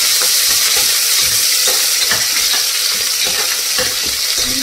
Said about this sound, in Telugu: ఇలా అయ్యేంత వరకు ఫ్రై చేసుకున్నాక ఒకసారి మంచిగా కలుపుకోవాలండి